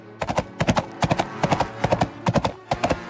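Horse hooves clip-clop steadily as the horse is ridden into a forest, in crisp rhythmic clusters of three or four strikes repeating about every half second, close and clear.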